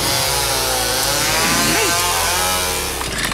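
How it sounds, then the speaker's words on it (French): A chainsaw runs continuously at high revs, loud and close, with a brief dip and recovery in engine pitch partway through. "La tronçonneuse!"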